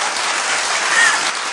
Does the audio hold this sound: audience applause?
yes